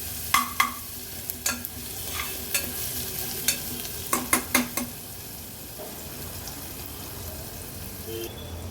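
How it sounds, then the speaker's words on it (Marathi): Chopped onion cooks in hot oil in a pan for an Agri-Koli style vegetarian thali, with soft sizzling under scattered sharp stirring clacks from a spoon, bunched near the start and middle before settling into a quieter simmer. "आता कांदा व्यवस्थित तेलावर आपल्याला शिजवून घ्यायचा आहे"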